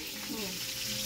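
Sliced eggplant sizzles and crackles steadily in hot oil in a frying pan, a close, continuous frying hiss.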